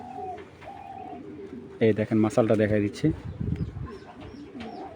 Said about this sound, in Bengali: এই যে এটা একবারে লংয়ের একটা কবুতর